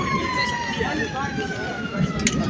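A siren sounding across a survey camp to call people for a snack break, its long drawn tone sliding slowly downward, with people talking nearby over the top.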